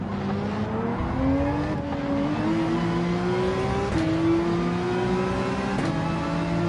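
Car engine and exhaust in Gran Turismo 7 with active exhaust set to Sport, a steady droning engine note rising in pitch through gear shifts, quite subdued and continuous.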